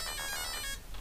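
A short, steady electronic beep tone rings out for about a second, clear and close, with no voices.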